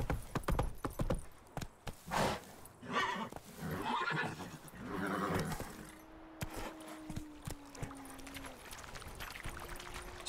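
Roach, Geralt's horse in the video game Witcher 3, lets out a clear neigh and whinny amid hoof clip-clops and tack jingles, followed by a softer snort and a quieter sustained tone.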